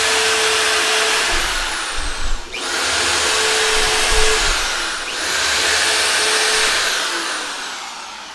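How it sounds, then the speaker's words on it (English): A power drill drives screws into a plywood DIY plyo box, its whine rising and falling across three long bursts with brief pauses, loud and close. "I'm going to go ahead and screw some screws in here."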